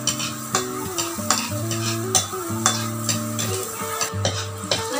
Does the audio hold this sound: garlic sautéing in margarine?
yes